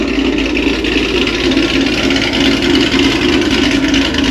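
A Ford S550 Mustang idles close by with a loud, rough, choppy exhaust, a dense low rumble holding steady throughout without revving.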